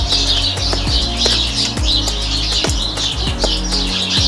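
Small birds chirp around a barn in repeated short tweets over a steady low background hum, close and fairly bright, without any voices.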